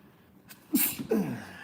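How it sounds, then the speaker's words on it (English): A single loud sneeze bursts out after a short sharp intake of breath, close and clear with no talking. "I'm about to sneeze."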